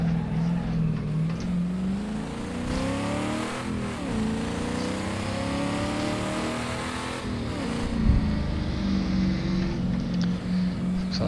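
The engine of a 1992 Ford Falcon EB in a driving game, cruising through suburban streets, a steady drone whose pitch rises and falls as it accelerates and shifts, up close with no speech.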